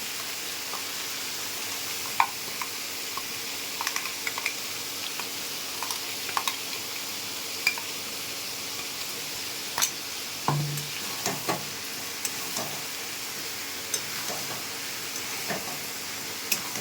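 Spices being sautéed in a pan with bottle gourd give a continuous soft sizzle and hiss, punctuated by scattered sharp taps and scrapes of a spoon stirring at close range.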